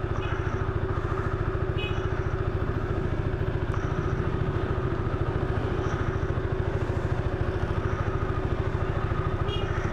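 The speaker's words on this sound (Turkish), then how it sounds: "Sesi falan çok güzel motorun." A Peugeot XP400 GT scooter engine running steadily nearby, an even, pulsing mid-pitched drone that holds constant throughout without revving.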